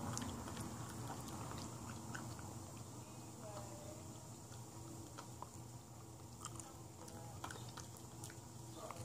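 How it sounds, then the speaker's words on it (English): Soft, wet chewing of gum continues steadily throughout at close range, with small irregular clicks and smacks over a low background hum. "You chew gum just like I do."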